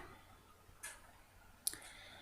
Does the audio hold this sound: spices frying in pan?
no